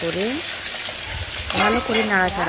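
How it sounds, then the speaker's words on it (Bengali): Fried fish heads are stirred in hot oil with cumin, bay leaf and dried chili, a broad sizzle running beneath a person talking close by. "তারপরে মাছের মাথা ভাজা মাথাগুলি দিয়ে ভালো করে নাড়াচাড়া"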